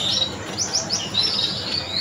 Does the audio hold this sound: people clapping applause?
no